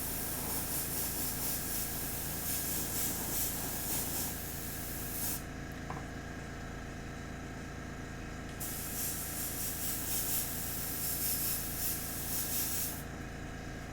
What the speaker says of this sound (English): keep spraying until I run out of paint